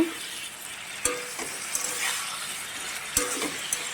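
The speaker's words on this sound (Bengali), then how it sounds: "আবারও নেড়ে চেড়ে ভেজে নেব" Potatoes and flat beans are tossed in a pan as they fry, a soft sizzle underneath with occasional clinks and scrapes of a spoon against the metal, close and fairly quiet.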